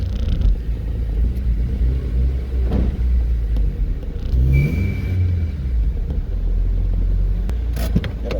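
An 8th-generation Honda Civic Si engine fitted with a Skunk2 Alpha header rumbles steadily with a deep, low drone that swells as it accelerates, heard from inside the vehicle over road noise.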